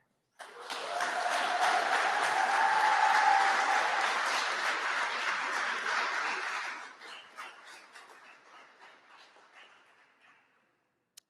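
Loud, sustained audience applause at a university graduation ceremony for nursing graduates, rising quickly, holding steady for several seconds, then thinning into scattered claps before fading out.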